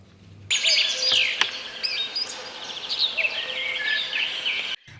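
Birds sing and chirp continuously in a forest in varied trilling phrases, fairly close, over a quiet outdoor hush.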